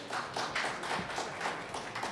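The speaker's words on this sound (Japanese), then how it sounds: "拍手でお迎えください。" Audience applause welcoming a presenter at PyCon JP 2022, a steady wash of many hands clapping at moderate level with no talk over it.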